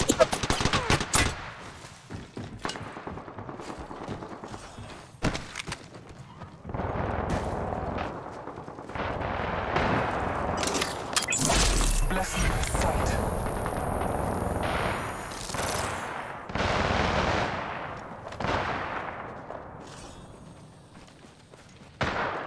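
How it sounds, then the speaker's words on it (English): Gunfire in the video game Apex Legends, with repeated loud automatic bursts and single shots in a busy firefight, mixed with impacts and game effects over about twenty seconds. "Shots fired at me."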